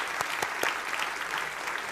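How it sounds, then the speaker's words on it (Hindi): A studio audience at a televised political debate show breaks into brisk, continuous applause to welcome contestants, dense clapping with a few louder hand claps. "तालियों के साथ स्वागत कीजिए सत्य प्रकाश मिश्रा और प्रियंका भारती को।"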